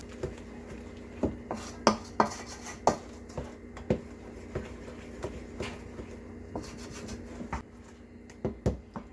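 Pureed fruit for a Caribbean fruit cake is mixed in a bowl, giving a run of regular scraping, rubbing strokes with soft knocks of utensil against the bowl, close and fairly loud, with no voices.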